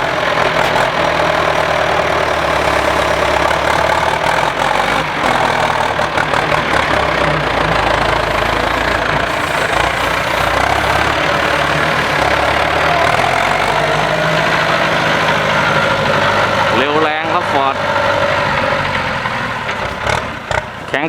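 A heavy Ford 6610 tractor engine runs steadily and loudly throughout, a constant low rumble with a brief knocking change near the end.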